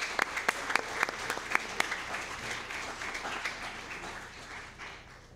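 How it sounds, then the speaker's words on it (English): Audience applause at a school district board meeting honoring national qualifiers, a dense steady clapping with a few sharper near claps standing out early, gradually thinning and fading toward the end. "let's give them a round of applause."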